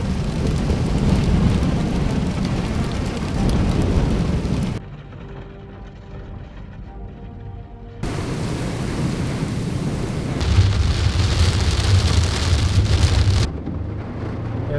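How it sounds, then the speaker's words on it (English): Heavy rain roars steadily with deep rumbling thunder in a severe Northern Plains thunderstorm with winds up to 60 mph, easing briefly before the downpour surges back loud and close. "that was a severe thunderstorm with winds up to 60 miles an hour"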